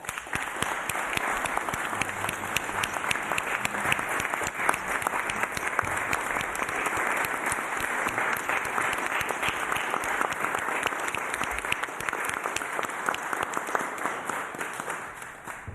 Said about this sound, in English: So I would like to ask you to join me on a round of applause to all these people that have been working on the festival